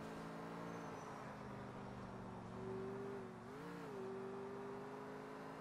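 A car in the video game GTA 4 drives with a steady engine drone that rises and dips as it revs, quiet and continuous with no voices.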